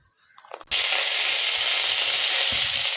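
Fennel seeds tipped into a generous pool of hot oil for a pepper chicken gravy set off a sudden loud, steady sizzle that holds at full strength after a brief quiet rustle and clatter.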